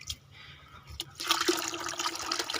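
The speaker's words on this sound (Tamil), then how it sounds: "இன்னும் கொஞ்சம் ஊற்றுமா, அரை பக்கெட் வரட்டும்." Water pours into a bucket for a home guppy breeding setup, starting with faint trickles and then becoming a steady, close splashing gush.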